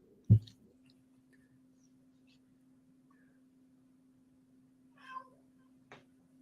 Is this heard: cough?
no